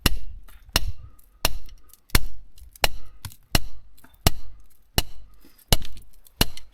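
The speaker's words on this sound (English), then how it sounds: "Let me give that thing a couple of whacks." Hammer striking rock while digging out fluorite in the Wah Wah Mountains: about ten sharp, loud cracks at a steady pace, close by, with quiet gaps between blows.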